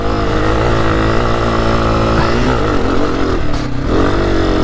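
A 2024 Honda CRF250F trail bike is ridden on a motocross track, its engine loud and close. The note holds a steady drone, then rises and dips with throttle changes, with a short lull near the end before it picks up again.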